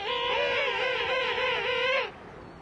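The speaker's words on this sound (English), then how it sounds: "the adults have this really majestic trumpeting sound" Adult penguins trumpet with neck raised, a loud, sustained call of wavering, harmonic notes that pulses rapidly for about two seconds and then breaks off into quiet background.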